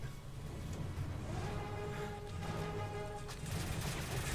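Sustained, dense gunfire from Call of Duty: Modern Warfare 3, with overlapping shots and blasts forming a loud, continuous barrage that swells near the end.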